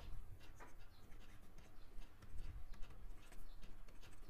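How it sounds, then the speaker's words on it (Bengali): Chalk or marker strokes write words on a classroom board, a faint series of short taps and scratches in an uneven rhythm, close but quiet, with no talk over them. "যেমন আমি এখানে কয়েকটা ওয়ার্ড লিখি"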